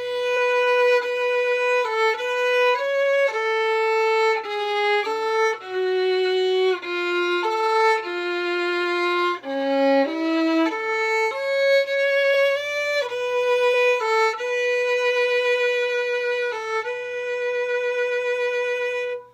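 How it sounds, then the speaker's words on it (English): Solo violin playing a melody from the Mulan trailer with quarter-tone inflections, a clear, close, singing line of sustained notes with slides and bends, loud and alone without talk. "which I'm going to go to my violin and show you"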